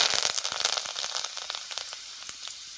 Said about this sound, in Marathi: कढीपत्ता टाकून घेतला